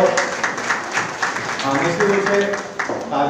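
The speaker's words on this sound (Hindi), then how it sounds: "निश्चित रूप से तालियां इसके लिए बनती हैं।" Applause from a live audience at a Shubhkamna Parivar gathering in India, a steady broadband patter of many hands clapping continuously throughout, fairly close and even in level.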